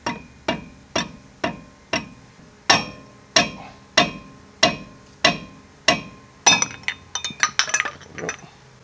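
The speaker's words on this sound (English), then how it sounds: "put a pry bar underneath it. And then tap on it till you get one edge loose" A hammer taps a pry bar wedged under the front wheel dust cover of a 2WD F-350 dually truck, a dozen sharp metallic clinks at a steady pace and then a quick flurry of rattling hits, close and loud.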